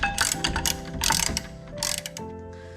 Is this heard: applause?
no